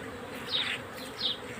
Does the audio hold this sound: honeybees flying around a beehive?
yes